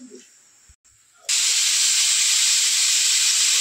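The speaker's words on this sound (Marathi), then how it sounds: "कुकरची शिट्टी झालेली आहे." A loud, steady hissing blast of steam suddenly bursts out after a quieter moment and keeps going strongly, a pressure cooker whistle venting while mutton cooks.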